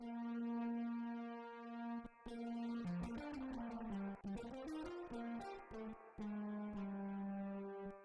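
A WERSI Stage Performer MK1 synth tone through its distortion filter, buzzy and harmonically rich with gritty distortion, holding a steady low note and then shifting through rapid stepped pitches before settling again.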